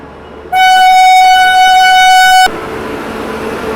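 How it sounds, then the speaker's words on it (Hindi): A loud sustained horn from the Dibrugarh Rajdhani Express arriving at platform 3, one steady tonal blast of about two seconds, followed by the rumble of the train at the station. "यहाँ पर डिब्रूगढ़ राजधानी अराइव करते हुए प्लेटफॉर्म नंबर"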